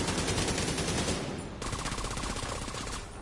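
Rapid automatic AK-47 rifle fire in The Division 2, a dense, loud, close burst of rattling shots that briefly pauses and then resumes as a second sustained volley.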